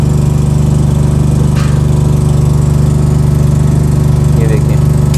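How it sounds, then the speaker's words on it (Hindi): A Honda petrol generator, EXK2800S or EBK2800 type, running under load with a steady, loud, close mechanical hum and constant low engine drone throughout. "देखिए जनरेटर स्टार्ट हो चुका है, देखिए लोड भी डाल दिया है"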